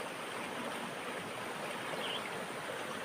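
A mountain river runs over rocks among stones, a steady broadband rush of water that stays constant and fairly close throughout, with no voices.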